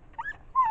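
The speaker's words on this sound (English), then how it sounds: "What do you want, dog?" A dog whimpers twice outdoors near a cave, two short high whines about half a second apart, close and fairly clear with no talk over them.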